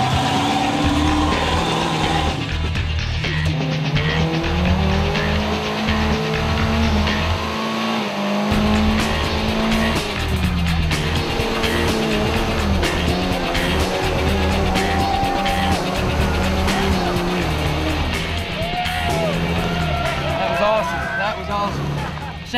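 4x4 off-road vehicles at an off-road park climbing rough, rocky terrain, engines loud and close with revving and straining under a steady roar, a voice talking over the engine noise.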